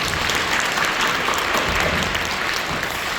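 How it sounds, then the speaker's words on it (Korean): A church congregation gives dense, loud, continuous applause after the choir sings, an even wash of clapping with no pauses from start to finish. "다시 한번 박수해 드리시죠."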